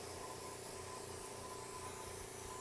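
An airbrush sprays green paint in a steady, faint, continuous hiss that carries on evenly without pauses or talking.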